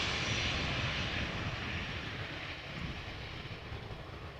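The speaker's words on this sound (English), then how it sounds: "Croatia A319 arriving from Zagreb." Croatia Airlines Airbus A319 jet arriving at Amsterdam Schiphol, a loud, close, rumbling engine roar that eases off slightly over a few seconds.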